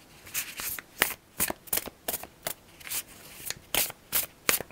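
Oracle cards being shuffled by hand: a dozen crisp, papery riffling bursts repeat in a fairly regular rhythm, close and fairly quiet, with no speech.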